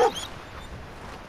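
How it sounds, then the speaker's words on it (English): A dog in the video game Fallout 4 gives a short, fairly loud yip or whimper at the start, followed by low ambient game background. "Oh, hi doggy."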